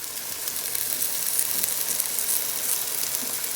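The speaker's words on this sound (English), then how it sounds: "there it is cooking in the pan" A plant-based meat substitute sizzles steadily in a frying pan, giving a soft, even hiss and crackle with no talking.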